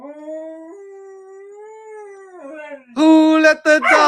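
A dog gives a long, wavering howl, clear and close, then breaks into a burst of louder, harsher yelping howls near the end.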